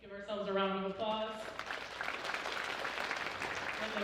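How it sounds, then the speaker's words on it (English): At an 8th-grade awards ceremony at a middle school, a voice rings out first, then a crowd of students and families breaks into broad, sustained applause that carries to the end. "let's give ourselves a round of applause"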